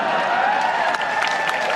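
A dense audience claps loudly and continuously throughout, a steady wash of many hands with no pauses.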